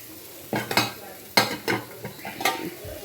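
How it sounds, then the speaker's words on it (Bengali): Yardlong green beans being reheated in a pan, several sharp scraping stirs of a spatula against the pan with brief sizzles in between, close and fairly loud, no talk. "এখন বরবটিটা গরম করছি"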